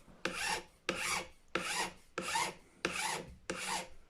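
A file cuts the nut slots of a Gibson Les Paul guitar in six regular rasping strokes, each a bright scrape with a short pause between, close and alone.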